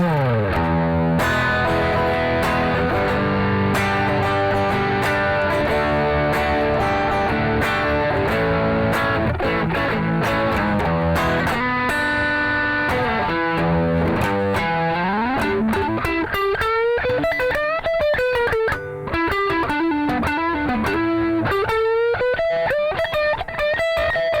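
Electric guitar driven through a Keeley Aria pedal set to high gain mode with the level boosted, playing dense saturated chords and then a sustained, bending lead line, loud and continuous with no talking.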